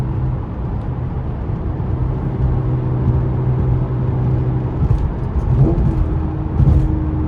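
Ninth-generation Honda Accord V6 with a new exhaust downshifting, a steady low droning rumble from inside the car that swells briefly as the revs rise.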